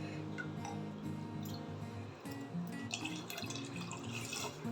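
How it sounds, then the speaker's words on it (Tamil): Tender coconut water poured from a cup into a bowl for a coconut jelly dessert, a steady close liquid splash and trickle running continuously with faint clinks. "இப்போ 2 கப்பு இளநீ தண்ணி சேர்த்துக்கலாம்."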